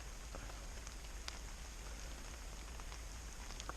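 Light rain patters steadily on the surrounding surfaces, a soft, even hiss with scattered faint drop taps and no voices.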